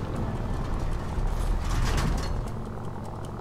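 An aircraft engine runs in the Stranded Deep survival game as a constant, fairly loud mechanical drone and rumble that swells slightly midway, with no talking.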